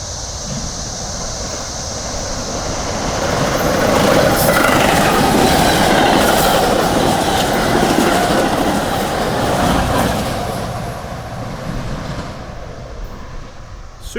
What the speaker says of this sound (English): Inbound Metra.